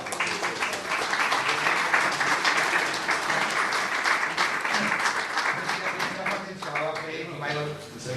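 An audience gives the Centre Macià a burst of applause, dense continuous clapping that stays strong and then thins out near the end, with voices mixed in.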